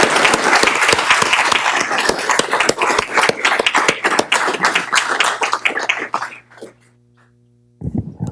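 Applause from the audience at a township council meeting honoring first responders, loud with crisp, distinct claps, tapering off after about six seconds into near silence before a short burst of sound returns.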